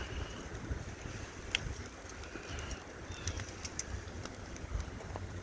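Steady wind rushing and buffeting outdoors beside a grill fire, with faint bird calls and scattered small clicks over a low rumble.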